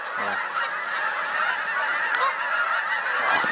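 Geese honking constantly during a goose hunt, a dense overlapping chorus of calls from a flock that sounds fairly close and loud, with no talk over it.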